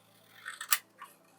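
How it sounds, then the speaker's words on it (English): Sharp scissors snip through paper in a few quick, crisp cuts, one louder snap standing out, close up and isolated in a quiet room. "Is it weird that some scissors sound like you can tell the sharpness of scissors"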